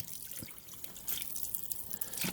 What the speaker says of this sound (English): immediately go ahead and rinse off your slide with your water right here